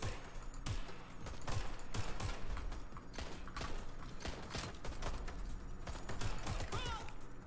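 Rapid video game gunfire from Watch Dogs Legion, repeated sharp shots in quick bursts throughout over a busy game soundtrack and effects, with a voice talking at times.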